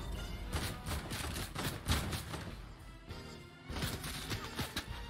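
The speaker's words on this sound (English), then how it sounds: "Bro, you're getting shot by a henchman" Gunfire from a henchman in Fortnite, bursts of rapid shots rattling continuously for several seconds, with a short lull before the shooting resumes, moderately loud and without talk.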